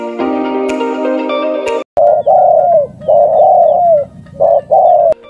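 A dove calls loudly and close in a series of short, clear, slightly falling notes with brief gaps between them. Before the calls there is a sustained harmonic tone.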